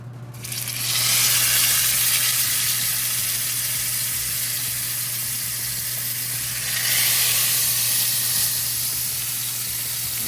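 Seasoned steak sizzles steadily in a hot pan, a loud continuous frying hiss with a steady low hum beneath, swelling slightly partway through, with no talking.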